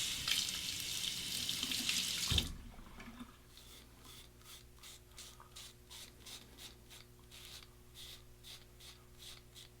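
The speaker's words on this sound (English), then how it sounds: "Let me rinse it." Tap water running hard over a safety razor being rinsed in a sink, a loud steady splash that cuts off abruptly, followed by a quieter stretch of repeated soft rubbing strokes.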